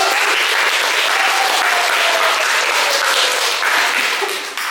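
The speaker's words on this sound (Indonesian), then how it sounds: "Beri tepuk tangan dulu buat Ibu." A classroom of students claps for their teacher, a steady, dense burst of applause filling the room for several seconds, close and loud, easing slightly at the end.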